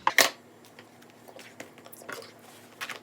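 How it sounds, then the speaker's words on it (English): Scissors snipping through vintage Levi's denim to make cutoff shorts, a sharp close crunch at the start followed by a few quieter, scattered cuts and rustles. "just using my scissors."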